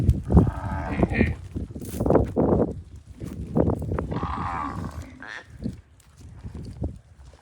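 Several Kankrej cows moo loudly nearby at a cattle shelter, long low calls overlapping one another, with some rustling and movement in the background.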